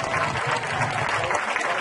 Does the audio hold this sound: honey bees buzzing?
no